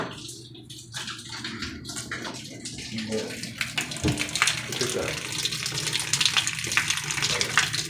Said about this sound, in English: We have water leaking from the bathroom floor into the kitchen.